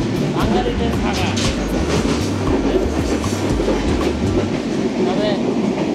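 A nearly empty passenger train in motion, recorded inside the carriage: continuous rumble with rhythmic clickety-clack of wheels over rail joints, steady and close.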